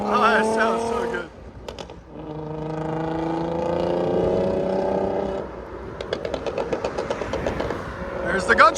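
A straight-piped, catless 2001 Audi S4 2.7L V6 rumbles at a steady rev, then drops into a run of rapid sharp exhaust pops and crackles, loud and close.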